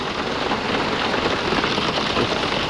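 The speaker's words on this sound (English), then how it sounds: "That hail is pelting me." Hail storm pelting down outdoors, a dense, steady hiss of hailstones striking surfaces, loud and close, without pause and with no voices.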